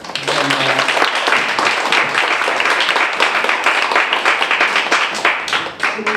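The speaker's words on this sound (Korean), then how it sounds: "이진경 선생님께 박수 한번 부탁드립니다." An audience at a humanities lecture-concert applauds the sociologist who spoke, sustained clapping from many hands, close and even for about six seconds with no voices over it.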